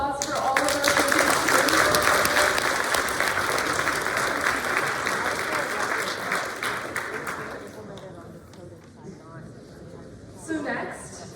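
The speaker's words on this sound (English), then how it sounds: "Can we get one more round of applause for all of our students?" Audience applause for students at a tech showcase event, loud dense clapping that swells early, then gradually thins and fades, with voices talking as it dies away.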